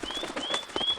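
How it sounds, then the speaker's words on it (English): A bird call from a game sounds as a bluebird warbler flies in: short, bright whistled chirps repeat about three times in one second over soft background noise. "The bird is flying in."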